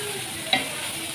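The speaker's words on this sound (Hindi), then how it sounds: "राइस को अच्छे से कर लेंगे हम मिक्स वेजिटेबल के साथ" Egg fried rice with mixed vegetables is stirred in a pan, with a steady soft sizzle and one brief scrape of the spoon partway through.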